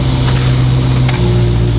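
Engine of a 1970 Challenger fitted with a 392 SRT V8 idles with a deep, steady rumble, close and continuous with no break in level.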